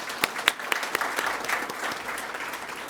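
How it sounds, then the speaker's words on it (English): Audience applause at the ACHS awards ceremony 2024, a moderate round of clapping with distinct sharp claps early that blend into a steady wash, heard at a distance. "Please give them a round of applause."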